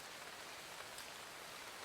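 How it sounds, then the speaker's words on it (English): Rain falling during qualifying in Motorsport Manager, a faint, even hiss of drops with no talk and no other sounds. "it seems like it's raining on qualifying too, actually"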